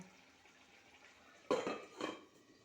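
A spoon stirs boiled eggs into egg curry in a cooking pot, giving a sudden clunk and scrape against the metal and then a second softer stir over a quiet simmer.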